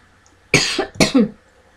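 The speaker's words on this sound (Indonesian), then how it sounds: "Aduh, batuk ya." Two sharp coughs in quick succession from a person in a quiet room, close and fairly loud, with near silence before and after.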